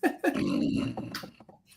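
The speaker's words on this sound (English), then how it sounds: "Look, dog." A dog whimpers and whines in short, high, pleading cries, close and fairly loud, with a low growly undertone and no voices.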